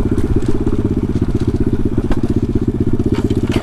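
A pit bike rumbles steadily up close as it rides over rocks and roots, its low engine pulsing evenly with occasional knocks and clatter from the rough trail.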